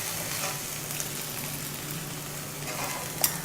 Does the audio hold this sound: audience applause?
no